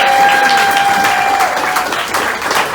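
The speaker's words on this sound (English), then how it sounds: "Let's give them a round of applause." Applause fills a town hall campaign event hosted by Scott County Democrats, a loud, dense crowd clapping steadily throughout with no voices over it.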